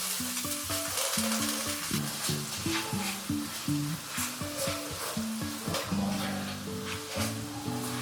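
Chopped onions frying in a little oil in a pan on the stove: a continuous close sizzle with occasional stirring, heard under steady background music.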